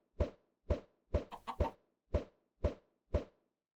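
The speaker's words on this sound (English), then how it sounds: "Hate hitting the baby chickens." Baby chickens in Minecraft are struck repeatedly: seven evenly spaced, punchy hit sounds, with a short chicken cluck in the middle, clean and close with no talk.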